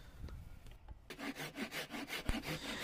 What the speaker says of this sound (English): Then I start cutting all the components to near size.